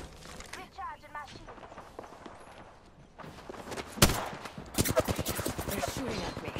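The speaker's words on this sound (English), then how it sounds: "They're shooting at me." Gunfire in the Apex Legends video game comes in bursts of sharp cracks, loudest from the middle onward, over a busy mix of game sounds and an in-game voice.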